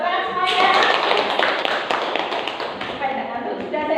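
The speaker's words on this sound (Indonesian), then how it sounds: "Tepuk tangan semuanya." A classroom full of people clapping hands together, a dense burst of applause that starts abruptly and carries on steadily for several seconds, close and loud.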